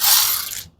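A ratchet breaks loose a 12mm bolt holding the horn to the body of a Toyota GR Corolla Circuit Edition, giving one short, loud, close burst of clicking that cuts off abruptly.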